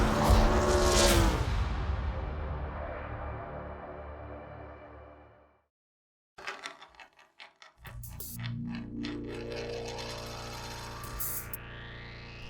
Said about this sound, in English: This car is so loud. The other cars are whizzing by